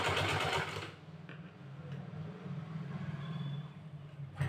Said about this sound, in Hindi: धीरे धीरे चलते जाना है और आपको सिलाई लगाते जाना है।